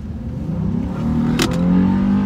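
A 2019 Honda Ridgeline truck pulls away from a stop, its engine note rising in a steady, moderately loud drone heard from inside the cabin, with a brief faint click partway through.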